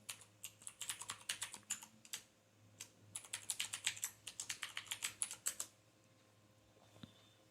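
Someone types an admin password on a computer keyboard while joining a Windows machine to a domain: quick bursts of close, light keystrokes with short pauses, ending in one isolated key press.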